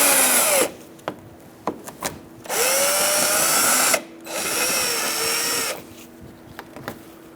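A power drill with a Phillips head bit runs out the bumper cover screws on a 2012-2017 Hyundai Accent in two sustained loud whirring bursts, with clicks and light handling knocks in the gaps.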